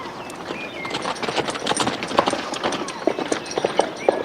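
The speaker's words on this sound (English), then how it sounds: "Well, I've never seen that many horses in all my life." A large herd of horses clip-clops past in a dense, overlapping patter of hoofbeats that grows louder and sharper as it goes on.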